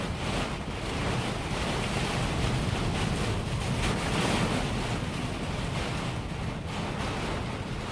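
Strong, steady wind roars during a tornado, a dense continuous rush with gusty buffeting against the microphone, loud and unbroken throughout with no talking.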